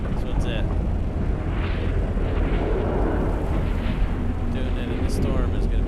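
Explosions in Dune Awakening boom and rumble through a sandstorm, making a constant heavy roar with brief sharper blasts, while a voice talks over it.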